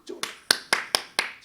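Hands clapping during a Friday night church worship service, six sharp, separate claps in an uneven rhythm, close and fairly loud with nothing else over them.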